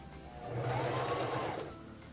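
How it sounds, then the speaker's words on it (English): A Singer Fashion Mate 3333 sewing machine stitches a buttonhole for a short run of several stitches, its motor whirring up to a steady close hum and then easing off, with no talking. "turn the stitch selector dial back to the number 4 and sew for about 6 to 8 stitches"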